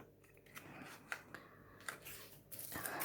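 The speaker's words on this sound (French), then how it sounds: "Les super beaux ciseaux." Embroidery scissors from a cross-stitch kit handled during unboxing, a few faint metallic clicks and snips separated by rustling, close and quiet.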